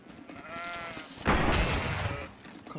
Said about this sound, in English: but hey, there's a goat.